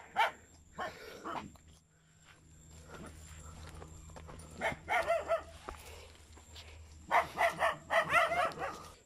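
Dogs barking at a home in San Emigdio, La Paz: a bark at the start, then bursts of excited barking and yelps in the middle and end, close and clear over a low background hum.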